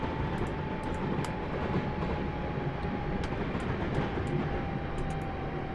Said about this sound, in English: my train all of a sudden is slowing down for some really weird reason